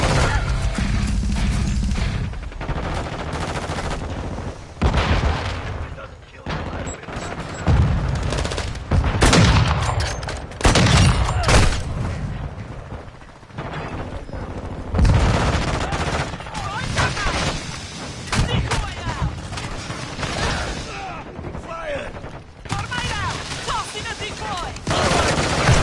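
Grenade blasts and rattling gunfire fill a Modern Warfare 2 match, dense volleys and crashes rolling on continuously and loudly, with a player's voice talking over the din.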